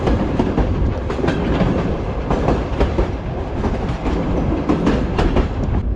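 Coal train rolling slowly along rails in Kyrgyzstan, a loud continuous rumble with rhythmic wheel clatter and clicks throughout, heard up close.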